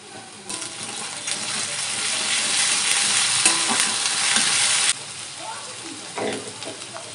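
Garlic drops into hot oil and fries with a loud, bright sizzle, stirred in a pan while cooking a Bengali fried lote fish and eggplant dish; the sizzle swells steadily for about four seconds, then eases with light scraping stirs.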